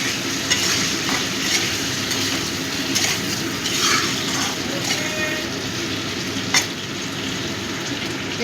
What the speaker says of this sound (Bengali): পরিমাণ মতো নুন দিয়ে দিলাম। ভালো করে মিশিয়ে দেব।